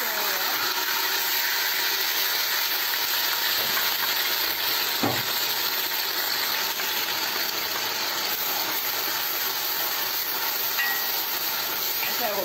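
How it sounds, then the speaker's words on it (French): Onions and garlic frying in hot oil in a pot, a loud, continuous hiss with no talk and one small knock partway through. "je vais verser des oignons avec l'ail"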